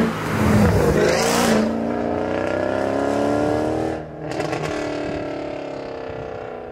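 A Mercedes C63 AMG W204 estate with a naturally aspirated V8 roars through its exhaust, revving hard then holding a steady, loud, droning tone, with a brief dip before climbing again.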